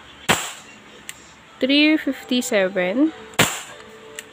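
Two sharp, loud shots from an airsoft Hi Capa 5.1 TREX pistol fired during a chronograph velocity test, spaced about three seconds apart, with someone speaking briefly between them.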